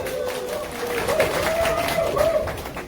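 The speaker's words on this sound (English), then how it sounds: "Can you give a round of applause for her?" Audience applause for a speaker at an NDC party gathering in Atlanta, a steady wash of clapping with crowd noise and a raised voice over it, sustained throughout.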